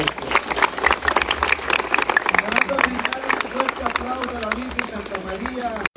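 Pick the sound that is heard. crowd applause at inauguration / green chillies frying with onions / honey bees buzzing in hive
crowd applause at inauguration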